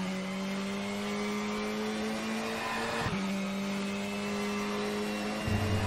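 Sustained engine drone of a KTM X-Bow GT4 race car at the Red Bull Ring in the racing game GTR4, a steady close tone that dips sharply once as gears shift, then carries on alone.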